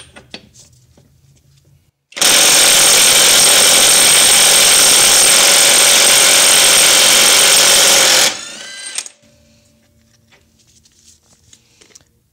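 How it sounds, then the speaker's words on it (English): Hercules mid-torque 1/2 inch cordless impact wrench on a 5 amp-hour battery hammers continuously for about six seconds, a loud dense rattling buzz that starts abruptly and cuts off, with quiet before and after. "I got the Hercules mid-torque 1/2 inch impact wrench here with the 5 amp hour battery fully charged as well"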